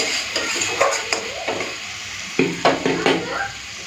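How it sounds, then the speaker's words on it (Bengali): New potatoes sautéed with spices in a pan sizzle as water goes in, with a steady hiss broken by sharp spoon scrapes and clatters against the pan, busiest toward the end. "এখন আমি জল দিয়ে দেবো"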